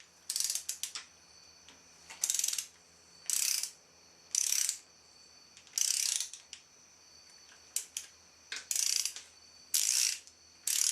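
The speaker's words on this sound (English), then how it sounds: "I like to get both bolts pretty snug before I start torquing." Ratchet wrench clicking in repeated bursts while snugging and torquing bolts on a Nissan 240SX KA24DE short block engine build, short loud ratcheting runs separated by quiet pauses, close up with no talking.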